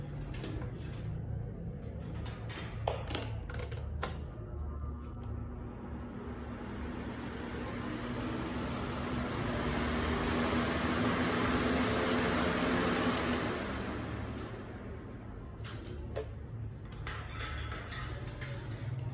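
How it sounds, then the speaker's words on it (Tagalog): An electric fan running in a room, a soft steady airy whoosh that swells a little in the middle and eases off, with faint handling clicks and knocks at the start and end. "So, malakas naman yung ating electric fan."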